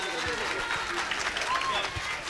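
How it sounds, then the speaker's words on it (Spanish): Audience applause on a Saturday birthday television show, a steady wash of clapping filling the whole stretch with voices and cheers mixed in. "Un aplauso para Andrés."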